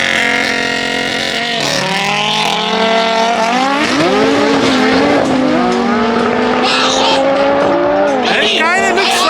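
Drag race cars, an Audi RS3 and an all-wheel drive Honda, launch at Saldanha Drags 2024. Loud engines rev and climb in pitch through gear shifts, with a brief tire squeal, over crowd voices.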